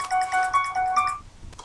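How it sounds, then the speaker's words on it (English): A short, bright electronic phone alarm melody plays a quick run of chiming beeps, moderately loud, then cuts off. "That's my alarm."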